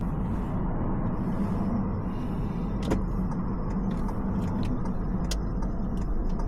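A car moving off on a driving lesson, steady engine and road noise filling the cabin with a few faint ticks, likely the indicator, and no talking.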